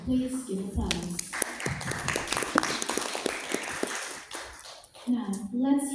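Audience applauding at a school debate competition round: several seconds of dense clapping, with voices speaking just before and after.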